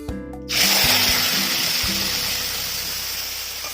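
Bay leaf and cumin hit hot oil for tempering an egg curry, bursting into a sudden loud hiss that settles into a steady, gradually softening sizzle.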